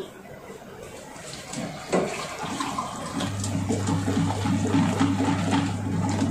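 Water is poured into a bowl to mix a batter for coating potatoes in a home kitchen, a steady splashing trickle that builds into a continuous pour with a low humming tone underneath.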